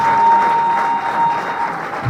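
A hall audience at a political gathering breaks into loud, dense applause that holds steady throughout, with a faint thin tone running beneath it.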